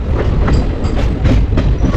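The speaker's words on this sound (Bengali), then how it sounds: "এই মুজনায় রেলওয়ে স্টেশন থেকে কিন্তু ট্রেন ছেড়ে দিল" A train pulls out of Mujnai railway station with a steady loud rumble and rhythmic clickety-clack of wheels over rail joints, close and continuous, with no voices.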